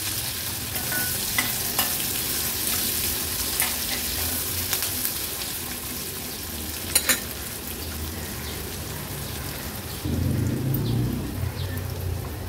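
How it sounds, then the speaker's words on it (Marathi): A medium-sized onion sautés in oil in a pan for an Agri-Koli style vegetable thali, giving a steady soft sizzle with scattered spoon scrapes and clicks, and a louder stirring rustle toward the end. "कांदा व्यवस्थित आपल्याला तेलावर परतून घ्यायचा आहे।"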